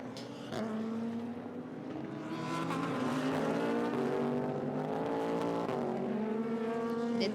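GT500 race cars at Super GT Suzuka drive on the track, a loud sustained engine roar with shifting pitch as several cars run close together.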